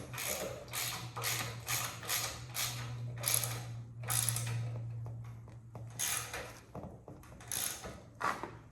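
Ratchet wrench tightening bolts on a Yamaha Blaster engine being rebuilt, close rapid clicking bursts in repeated strokes with short pauses, over a faint steady hum.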